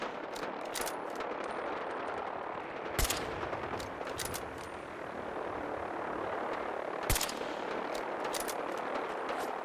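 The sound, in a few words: gunfire in Fallout 4 video game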